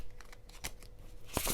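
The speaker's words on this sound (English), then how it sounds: "Spirit's saying give it a little shuffle" Tarot cards shuffled by hand in a few quick, soft riffling bursts, close and fairly quiet, ending in a brighter flurry.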